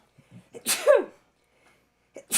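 A single close sneeze with a sharp breathy burst and a voiced tail, preceded by quick inhales and followed by quiet, then a faint breath.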